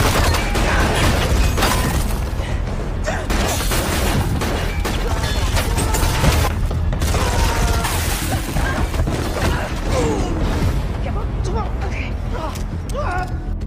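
Gunfire in a film shootout with a hostage taken as a human shield, a dense, loud, continuous mix of shots, impacts and crashes with mechanical clatter, talk running beneath it.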